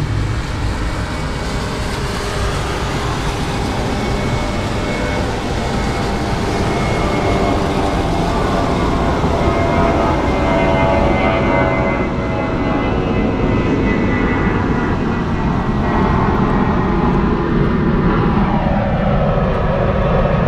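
Airliner taxiing onto the runway at Frankfurt Airport: a loud, steady jet engine roar with whining tones, heard from nearby and continuous throughout, with no talking.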